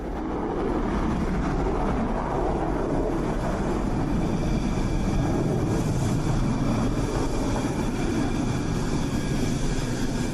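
Rafale fighter jets roaring overhead, a loud, unbroken broadband rumble that holds steady the whole time with no voices.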